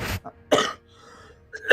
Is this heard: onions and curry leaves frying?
no